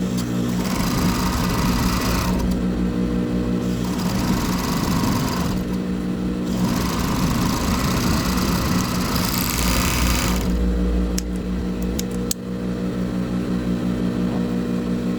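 A sewing machine stitches bra fabric in steady, continuous runs with a loud motor whir, broken by short pauses between passes, close up and without talk.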